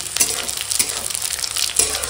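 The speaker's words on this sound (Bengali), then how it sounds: "তো একটু সাইড করে এখানে ফোড়নটা দিয়ে দেবো" Dried red chilli, bay leaf and radhuni drop into hot oil in a kadai, giving a steady crackling sizzle with a few brief stirring scrapes, close and alone without any talking.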